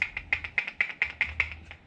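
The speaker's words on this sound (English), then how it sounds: "I don't think my axle's supposed to sound like this." A rapid, regular clicking or knocking, about nine evenly spaced sharp ticks in two seconds, fairly close and moderately loud, from a faulty car axle.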